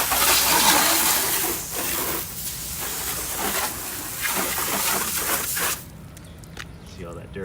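A garden hose sprays water hard onto a car during washing, a loud, steady broadband hiss with a voice speaking over it, until the spray cuts off near the end and leaves a quieter background.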